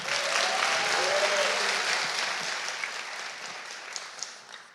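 Applause from a seated audience at a university medical graduation ceremony, a dense sustained wash of many hands clapping that slowly thins toward the end.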